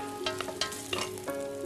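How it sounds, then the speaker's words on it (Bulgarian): Seitan fries in a pan with a sauce of starch, water, honey, brown sugar and soy sauce, giving steady close sizzling with a few sharp spatters and stirring scrapes. "Пържам още малко."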